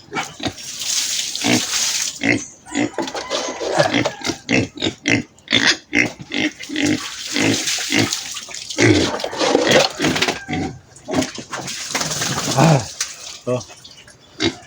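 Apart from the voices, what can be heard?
piglets grunting and oinking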